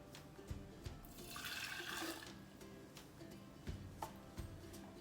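Half a cup of white distilled vinegar is poured for a dill pickle brine, making a brief splashing gush in the middle with a few light clinks before and after, fairly faint and with no talking.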